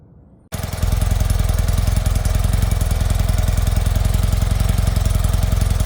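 A 1977 BMW R75/7 motorcycle engine catches and settles into a loud, steady idle as it warms up, its rhythmic pulsing thump continuing close and alone after a quiet start.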